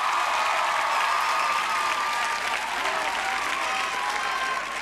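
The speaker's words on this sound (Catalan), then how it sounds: "un aplaudiment molt fort per tots vosaltres" Dense, sustained applause from a large audience at the final of the Pica Lletres quiz show in Esparreguera, loud and steady throughout with a crowd roar beneath the clapping and no talk over it.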